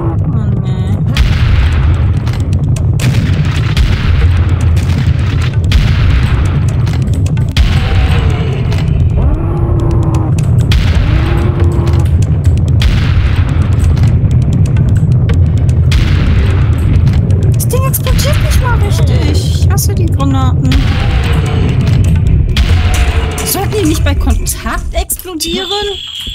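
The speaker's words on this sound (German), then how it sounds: "Lag die ganze Zeit am Boden und ist dann explodiert." Explosions in the video game Serious Sam: The Second Encounter Classic Edition, repeated loud booms and blasts over constant heavy rumbling gunfire, with players talking throughout.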